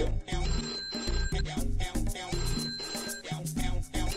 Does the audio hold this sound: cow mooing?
no